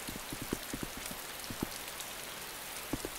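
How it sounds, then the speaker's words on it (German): Steady rain pours in the Arma II DayZ video game, a dense continuous hiss with scattered low patters and drips throughout, no talking. "Plus den Regen, der wahrscheinlich noch geräuschdämpfend ist"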